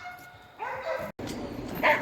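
Carpathian hounds working at a boar hunting trial give a couple of short yips and barks, fairly close and moderately loud, with some voices mixed in.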